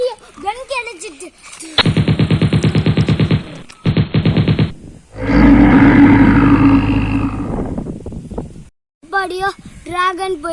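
Rapid automatic gunfire from a gun in a Ben 10 vs Spiderman video game fires in two long, evenly spaced bursts, loud and close, followed by a roaring blast, with a child's speech before and after.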